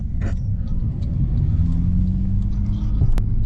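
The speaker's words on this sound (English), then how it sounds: "No clutch, because I got no clutch. Yes, third gear. No clutch, not working. Fourth gear, shiftless clutch." Damaged Honda Civic Type R with a broken clutch driving on the road, a steady loud engine rumble and road noise throughout, with a brief sharp knock near the end as gears are forced without the clutch.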